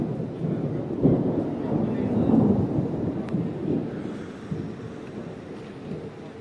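Thunder from a storm rolls over an outdoor concert stage area in Brezoi, a steady, fairly loud low rumble that swells and then slowly eases off, with a faint rain-like hiss underneath.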